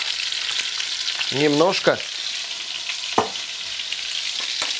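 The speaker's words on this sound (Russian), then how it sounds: "Буквально 30-40 секунд жарите в сильно раскаленном масле." Scallops frying in very hot, well-heated oil in a pan over full heat, a steady loud broadband sizzle throughout with a brief spoken word and a couple of sharp clinks from tongs or utensils.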